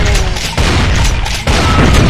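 Explosions in the video game Brutal Doom land as a loud, dense roar of booms, with bursts breaking in close together over the whole stretch.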